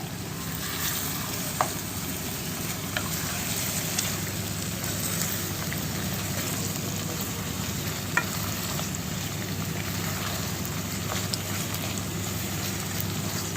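Eggplant softening in a pan while cooking for a jackfruit biryani, giving a dense, even hiss of frying that stays steady throughout, with a few faint utensil taps and no speech.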